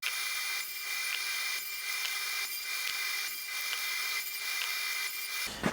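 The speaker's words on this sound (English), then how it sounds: "Once we've got the setup correct, run all the pieces through the saw." A machine saw cutting oak tenon pieces for a casement window, a loud continuous whine with repeated rhythmic surges as each pass goes through the timber, then stopping abruptly at the end.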